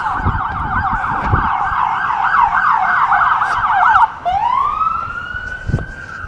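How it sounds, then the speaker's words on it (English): An ambulance siren wails in a rapid up-and-down yelp, then shifts to a rising tone as it passes, loud and close over traffic noise. "Hear that ambulance?"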